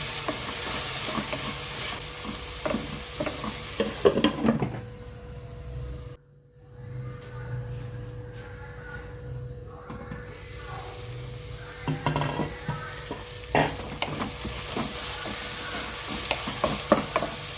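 A curry of amaranth greens, broad beans and tomato sizzles in a pan while being stirred, with scraping spoon strokes and a steady frying hiss, briefly dropping to near quiet in the middle before resuming.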